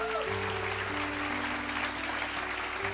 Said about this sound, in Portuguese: Quem está gostando, aplauda Jesus por isso.